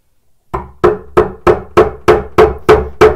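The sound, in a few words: tapping a wooden bowtie Dutchman into place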